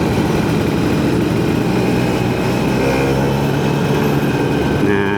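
A Kawasaki Ninja RR two-stroke with a Keihin PWL 26 carburetor, iTech exhaust and iTech cylinder drones steadily and loudly at a constant pitch throughout, with no speech over it.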